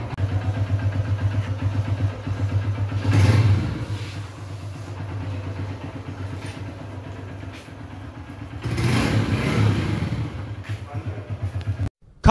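A new motorbike engine running on a ride: a steady mid-pitched drone with swells of revving at two points, fairly close and continuous, with some wind noise.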